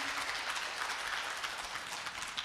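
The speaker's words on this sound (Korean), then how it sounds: "다시 한번 뜨거운 박수 부탁드리겠습니다" Audience at a women's peace forum event in Jeonbuk, Korea gives sustained applause, a soft, even, somewhat distant wash of clapping from many hands.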